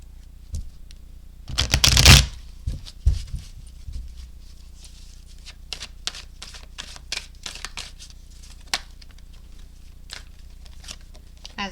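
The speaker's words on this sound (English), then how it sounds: "let's go ahead and let's get some tarot cards" Tarot cards being shuffled, with a loud burst of riffling and flapping early on followed by scattered lighter card taps and rustles through the rest.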